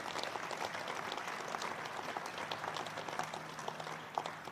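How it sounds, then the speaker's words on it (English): Crowd applause at an outdoor topping off ceremony for a veterans home in Holyoke, steady clapping from many hands carrying through the whole stretch at moderate loudness, with a faint low hum underneath. "And that we should clap for."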